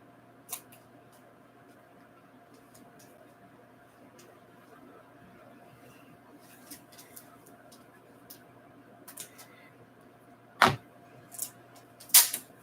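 Scissors cut through tape from comic book bags and boards in a quiet room, giving a few sparse clicks that end in several louder close snips, with no talking.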